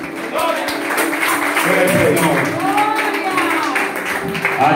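Congregation at a Pentecostal church service clapping together, a loud, sustained stretch of many hands under a speaking voice and scattered calls.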